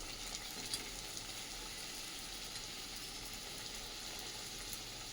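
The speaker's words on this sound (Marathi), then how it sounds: "इकडं कढईत तेल ठेवलेलं आहे गरम. तर पुऱ्या काढून घेऊया आता" Hot oil sizzles and crackles steadily at a low, even level as puris deep-fry in a kadhai, with no voices.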